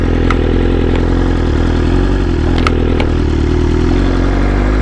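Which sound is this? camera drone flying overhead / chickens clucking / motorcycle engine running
motorcycle engine running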